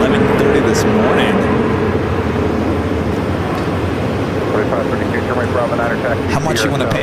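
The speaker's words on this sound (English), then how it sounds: "The Alice Air 747-400 taking the Dodgers to Tokyo for spring training, or actually the opening of the season. Taking off here on the north side of runway 8" A Boeing 747-400 takes off from runway 8 at Phoenix Sky Harbor, its engines a loud, steady roar that holds for the whole stretch while a voice talks over it.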